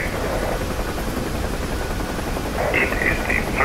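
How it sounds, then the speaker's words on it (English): Helicopter rotor in the DCS flight simulator game, a steady, loud rotor drone with a brief whine rising near the end, alone with no talking. "Without a doubt, it's from another helicopter."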